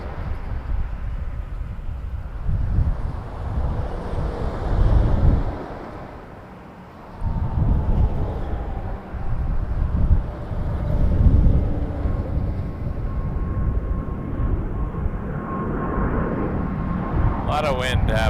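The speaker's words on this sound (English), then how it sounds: "A lot of wind happening today." Strong wind rushes and gusts at Toronto Pearson Airport, a continuous low roar that swells and dips, with faint aircraft and radio chatter mixed beneath.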